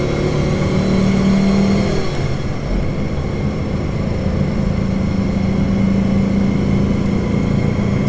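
A Porsche 912 four-cylinder engine pulls uphill on a mountain road, giving a loud, steady droning hum with a constant tone and a slight shift partway through, with no voices.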